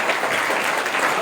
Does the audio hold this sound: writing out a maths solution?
no